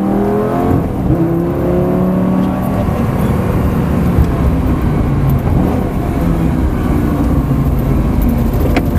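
A Lamborghini Gallardo on a sprint racing lap at the Folembray circuit, its engine droning loudly and steadily through shifting revs, with an instructor's voice talking over it the whole time.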